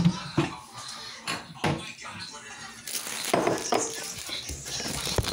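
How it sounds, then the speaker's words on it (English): A bowl taken out of a kitchen cabinet, with a few clinks and knocks of dishware and a cupboard door, scattered across a short stretch while a person talks. "I just go in the cabinet and get a bowl."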